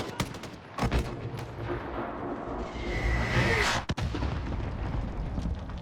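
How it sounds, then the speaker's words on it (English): Gunfire aimed at the player in a Call of Duty game, with sharp cracking shots and heavy booming blasts over rumbling battle noise, including a loud burst near the end. "Oh, they're shooting at us."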